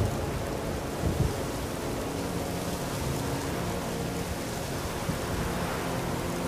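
Steady heavy rain with rumbling thunder in a storm inside The Witcher 3: Wild Hunt, a continuous dense downpour that fills the whole stretch without pause, with no voices.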